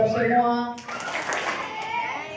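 A group of children claps hands in two short bursts at a storytelling session, right after an adult voice sings out a greeting.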